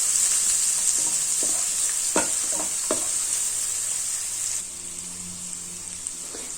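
Chopped onions fry in hot oil, a steady bright sizzle running throughout with a few sharp scraping stir strokes in the first three seconds, easing slightly quieter toward the end.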